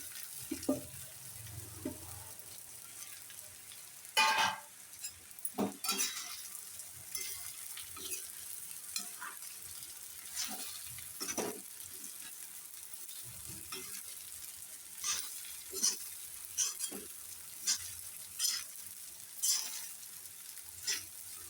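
Sabudana and peanuts tipped into green chillies frying in a pan for sabudana khichdi, with a soft steady sizzle broken by scattered scraping stirs and a few louder clatters, close and without talk.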